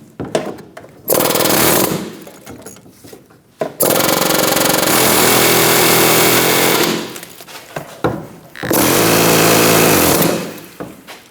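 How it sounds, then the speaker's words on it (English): A pneumatic air hammer rattles against a rusted front wheel bearing and hub on a 2008-2015 Scion xB, firing in three long, loud, continuous bursts separated by brief pauses. "we're going to swap over to an air hammer"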